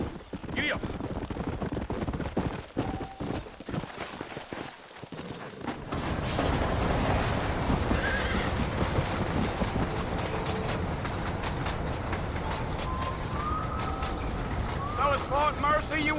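Horses trot with steady clip-clop hoofbeats and occasional whinnies in the Western video game Red Dead Redemption, rhythmic and close, under spoken dialogue and a creaking wagon.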